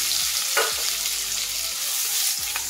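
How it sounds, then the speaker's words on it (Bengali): Chopped onions, two large ones cut small, sizzle steadily in hot oil in a pan while a spoon scrapes and stirs in a few distinct knocks, close and alone without talk. "তো পেঁয়াজটাকে আমি ভালো করে লাল করে আমি ফ্রাই করে নেব"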